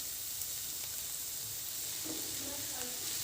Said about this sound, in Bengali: পেঁয়াজের সাথে আলু আর গাজরটাকে খুব ভালো করে মিশিয়ে হালকা করে ভেজে নিতে হবে